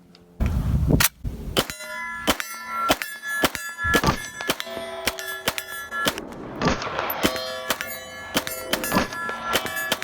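HK SP5K shots strike steel targets at a shooting range, producing a rapid, irregular string of sharp reports, each followed by a bright, ringing metallic clang that hangs and overlaps with the next.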